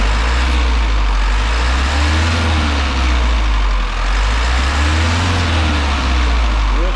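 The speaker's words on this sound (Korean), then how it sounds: "지금 여기서 시동을 걸어보겠습니다." A Hyundai Mighty school bus diesel engine, fitted with an unpowered turbo, idles after starting: a loud, steady low rumble that continues without pause, with no voices.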